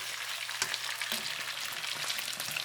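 Chicken thighs frying in a pan, turned over to cook the second side, give a dense, continuous close sizzle with a few soft knocks and shifts, no talking.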